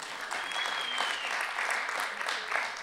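Open mic audience claps and cheers, a dense, steady wash of applause from a small indoor crowd that holds for a few seconds.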